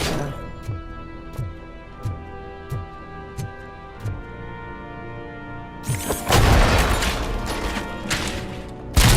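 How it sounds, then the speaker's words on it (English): A blast rings out in the video game Robocop: Rogue City, a loud broadband boom bursting in after several seconds of steady ticking and lingering as a rumbling roar until the end. "Did it not hit him with the explosion?"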